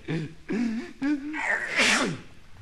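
A few short voiced breaths building up, then one loud sneeze burst, close and clear, with nothing else around it.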